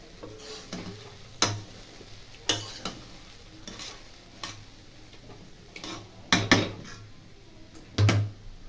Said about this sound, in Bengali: ভালো করে মিশিয়ে একটু ভাজা ভাজা করে দিচ্ছি আমার